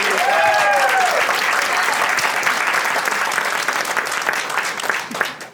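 Warm, sustained applause from an indoor crowd honoring veterans at a sheriff campaign event, dense clapping that holds steady and slowly tapers off, with a voice briefly audible near the start.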